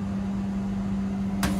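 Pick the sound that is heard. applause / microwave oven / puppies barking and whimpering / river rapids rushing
microwave oven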